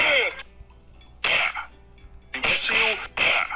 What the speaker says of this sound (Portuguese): Perdão, tô com um pigarro aqui.